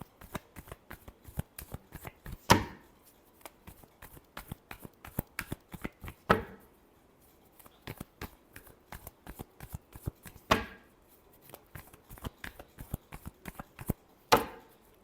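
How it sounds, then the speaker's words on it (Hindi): Tarot cards are shuffled by hand close up, with quick papery riffles and flicks coming in bursts and a few sharper slaps of the deck, fairly quiet, with no voices. "last shuffle"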